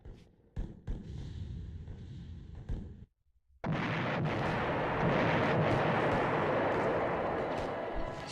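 Bombs exploding in the background of the video game Eternal Darkness: a low rumbling wartime barrage with scattered thuds, then after a short silence a heavy, sustained roar of explosions.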